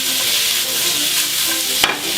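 Onion and bell pepper sizzle in olive oil in a hot pan at 200 °C, a loud steady hiss of frying close up with a brief clack of stirring near the end.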